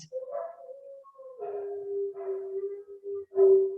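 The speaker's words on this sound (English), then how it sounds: "Even my dogs are in agreement if you can hear them in the background." Dogs howling and yipping in the background, several drawn-out howls with short barks mixed in, distant and moderately loud over an otherwise quiet room.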